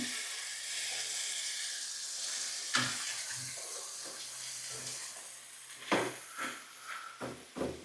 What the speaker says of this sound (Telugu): ఇప్పుడు ఇందులో మనం క్యాలిఫ్లవర్ వేసేసుకుందాం